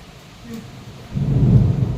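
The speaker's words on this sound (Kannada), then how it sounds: "ಫುಲ್ ಗುಡುಗು ಮಿಂಚು ಎಲ್ಲ ಬರೋದಿಲ್ಲ" Deep thunder from a thunderstorm rolls in after a quiet first second, swelling into a loud, sustained low rumble that lingers to the end.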